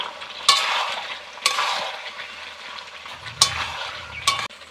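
Fried potatoes and Malabar spinach stems being stirred into a chicken gravy in a pan, with a steady bubbling sizzle punctuated by four sharp spatula scrapes against the pan at irregular intervals.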